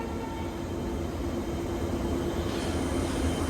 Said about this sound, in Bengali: ছেড়ে দিল কিন্তু আমাদের 27575 হাওড়া কামাখ্যা বন্দে ভারত স্লিপার।